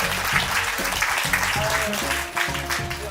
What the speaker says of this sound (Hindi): अपने आप ही ताली बजाएं सब